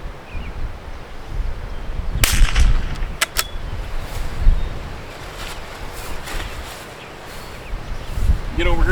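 Rifle shots crack out on an outdoor barricade shooting course: a handful of sharp reports over a steady rush of wind and outdoor noise, with one shot followed closely by a quick pair.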